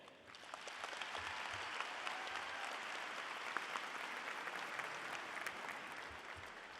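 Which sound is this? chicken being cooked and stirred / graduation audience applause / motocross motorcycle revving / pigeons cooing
graduation audience applause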